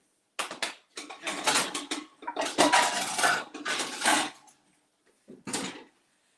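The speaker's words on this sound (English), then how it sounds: "Let me get a little skillet, put some oil in here." Clattering of cookware as a small skillet is pulled out for frying an egg, with bursts of metal pans and utensils knocking together close by, then a short pause and a final clank.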